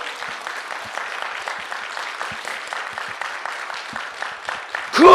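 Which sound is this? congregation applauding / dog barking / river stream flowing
congregation applauding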